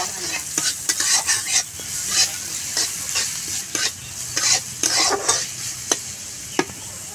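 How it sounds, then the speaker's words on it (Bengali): Chopped ginger, garlic and chili fry and sizzle in a pan, with steady hiss broken by frequent sharp scraping stir strokes, close and fairly loud, no talk. "আদা কুচি, রসুন কুচি আর লঙ্কার কুচি। এগুলোকে আমি ভেজে নেব ভালো করে।"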